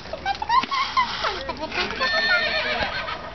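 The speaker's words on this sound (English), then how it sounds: "What did the horse say?" A horse whinnies with a rising and falling wavering call, mixed with people talking and some rustling nearby.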